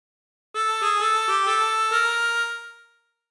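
A short phrase of the Family Guy theme played on a chromatic harmonica, a few clean sustained reedy notes stepping along in sequence, alone and clear before fading out.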